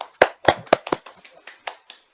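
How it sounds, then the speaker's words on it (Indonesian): A group in a training class claps in a short burst: several loud, close claps at first, then thinning to lighter, spaced-out claps that fade away. No one talks. "Tepuk tangan untuk kita semua Bapak Ibu."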